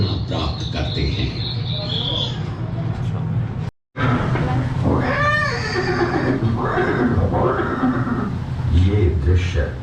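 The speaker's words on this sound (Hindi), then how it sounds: "ये दृश्य महाराणा प्रताप और सुविख्यात स्वामी भक्त घोड़े चेतक के अंतिम मिलन का है।" A horse neighs and whinnies amid loud battle-scene audio in a dramatised Maharana Prapat era scene with the warhorse Chetak; a brief gap near four seconds, then a rising, wavering whinny against a dense, noisy background.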